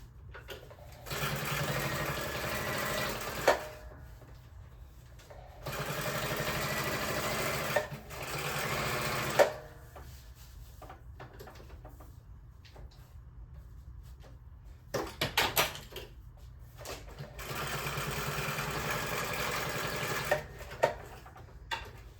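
A sewing machine stitching a quilt cover with a messy stitch runs in several bursts of a few seconds each, separated by quiet pauses, with clicks and handling sounds between runs; close, no speech.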